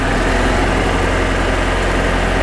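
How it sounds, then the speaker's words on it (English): A gas 2014 Yamaha Drive golf cart engine held at raised RPM during a charging test, a steady, loud, close droning hum with no change in pitch and no talk. "I'm going to give it some RPM."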